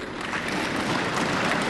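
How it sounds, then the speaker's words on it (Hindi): Audience clapping in a large hall at a youth parliament festival, a steady dense wash of applause from many hands throughout, with no voices over it. "I didn't say anything for which you need to clap"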